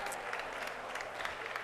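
Crowd applause at a US Open four-wall handball match, a dense steady patter of clapping lasting throughout with scattered sharper claps on top.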